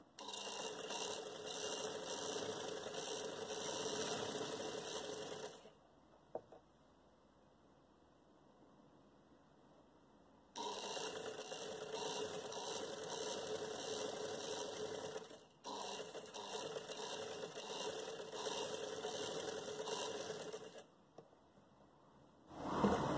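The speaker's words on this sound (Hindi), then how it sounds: "अब ये जो सेंटर का गोलाई है उस पे हम अब सिलाई कर रहे हैं।" A sewing machine stitches lace onto a gharara trouser in several long, steady bursts of rapid mechanical whirring, separated by quiet pauses, heard up close.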